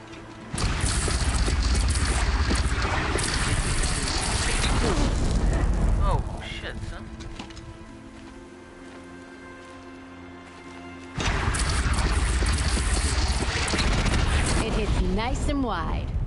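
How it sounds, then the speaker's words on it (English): Heavy Oseram cannon blasts in the video game Horizon Zero Dawn, loud booming bursts lasting several seconds, a quieter lull in the middle, then another long barrage. "Osram cannon!"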